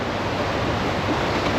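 A rain-swollen mountain stream in the Pyrenees rushes with a loud, continuous broadband roar of churning water, steady and close with no voices.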